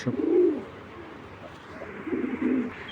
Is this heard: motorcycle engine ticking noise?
no